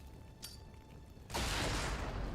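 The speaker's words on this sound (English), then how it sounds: "We're again just going to throw a nade here and then run." A grenade lands with a faint clink and then detonates into a broad, roaring blast that stays loud to the end, from the Xenonauts 2 tactical game.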